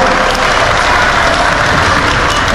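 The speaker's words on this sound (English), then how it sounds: "Let's clap it up." A crowd at a school signing day ceremony claps steadily, a dense wash of applause filling the space at an even, sustained level.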